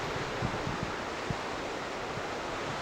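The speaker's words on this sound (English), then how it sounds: "We've just pulled up at Observatory Beach" Waves and wind at Observatory Beach in Western Australia, a constant loud wash of surf and gusting wind with low buffeting thumps against the microphone.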